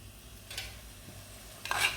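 A paste of fried onion, tomato and green chili with spices fries quietly in a pan, with two brief scraping stirs, the second one louder.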